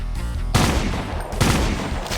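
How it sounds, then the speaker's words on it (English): A submachine gun fires in the video game Brutal Doom, with two loud, rapid bursts of crackling shots separated by a brief pause, close and dominant. "because this is the submachine gun"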